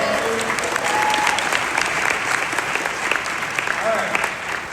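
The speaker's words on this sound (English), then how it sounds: "Can we give her a little round of applause?" Warm audience applause at a live real estate listing event, a loud continuous wash of clapping with a few cheers mixed in, steady throughout.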